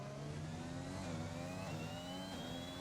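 A race car engine in a racing video game at Spa revs steadily and drops through the gears under braking, its pitch sliding down and climbing again, loud and continuous with no talk.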